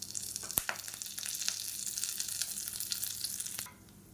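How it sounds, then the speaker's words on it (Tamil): Vadagam and curry leaves splutter in hot tempering oil, a close, crackling fry with sharp pops that runs steadily, then drops away abruptly near the end. "இப்போ பாருங்கள் நல்லா பொறிஞ்சிடுச்சு"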